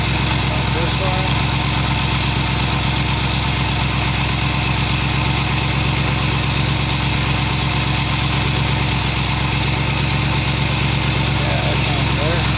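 A 1914 Dodge roadster engine fitted with Holley carburetor kits idles steadily and loudly in a driveway, a continuous rumbling drone with vibration throughout and no break.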